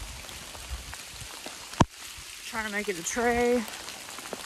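Steady rain patters on a hiking trail near Low Gap Shelter, a soft continuous hiss throughout, with a sharp close knock near the middle and a person talking briefly toward the end.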